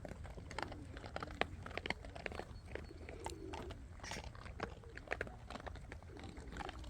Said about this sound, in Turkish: Kıtır kutur kıtır kutur keyifle yiyorlar.